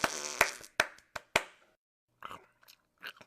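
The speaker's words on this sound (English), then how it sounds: "Did you just fart?" A sharp burst of short, crunchy pops from a cartoon, loud and close, followed by a few softer scattered blips after a pause; no speech.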